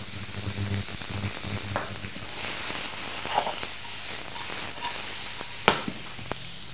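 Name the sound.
shallots frying in foie gras fat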